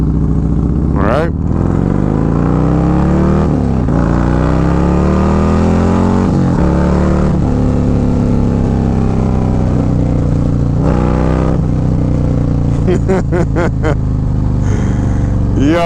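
A $60,000 Harley-Davidson performance bagger with upgraded injectors and a Kraus setup, ridden at speed: a loud, close V-twin roar rises and falls through repeated throttle revs and gear changes, ending in choppy bursts, with wind rush throughout.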